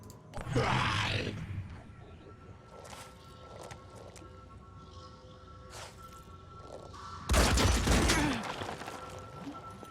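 Gunfire bursts in the Phoenix Point strategy game: two loud volleys, one near the start and a heavier one around the eighth second, with quieter scattered shots and effects between them.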